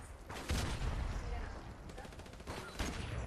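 Gunfire in the video game Call of Duty 4: Modern Warfare Remastered, with bursts of shots hitting around the half-second mark and again near the end, mixed with excited players talking over it.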